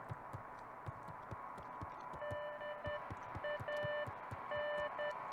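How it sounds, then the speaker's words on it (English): Faint electronic beeping in the video game Beacon Pines, short tone pulses in an irregular Morse-code-like pattern over a steady low hum and soft throbbing thumps, with no talking. "A faint electronic sound floated in the air"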